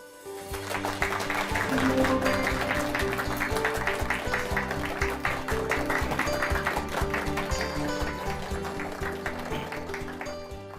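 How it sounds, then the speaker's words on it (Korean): Sustained audience applause at a lecture, many hands clapping densely and steadily for several seconds, with a muffled voice underneath. "박석재 박사님을 큰 박수로 환영해 주시기 바랍니다"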